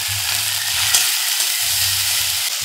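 Spice paste with salt and whole garlic cloves sautés in a pan, giving a constant bright sizzle with soft stirring scrapes and a brief clink, close up with no talking.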